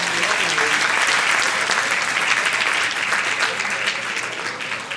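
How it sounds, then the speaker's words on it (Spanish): Sustained applause from a church congregation during a sermon, dense and steady clapping filling the room for the whole stretch, slowly easing toward the end. "Un aplauso al hermano José."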